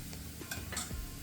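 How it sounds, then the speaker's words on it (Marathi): Asafoetida goes into browned onions in a hot pan for a dhaba-style garlicky dal palak tadka, giving a steady low sizzle with a couple of brief stirring scrapes, close and fairly quiet, no voices. "आता आपला कांदा परतला आहे, त्यात आपण हिंग टाकणार आहे,"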